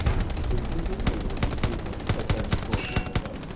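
Dense World War II gunfire in Hell Let Loose: rapid overlapping rifle and machine-gun shots crackle nonstop, some close and sharp, others distant, forming a steady loud fusillade.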